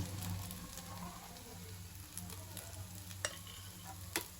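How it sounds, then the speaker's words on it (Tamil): Small kozhukattai rice dumplings sauté in a pan, with a soft steady sizzle, spatula stirring, and a couple of sharp clinks against the pan, close and fairly quiet, without speech. "இப்போ கொழுக்கட்டையை சேர்த்துட்டு நல்லா நம்ம வதக்கி விடணும்."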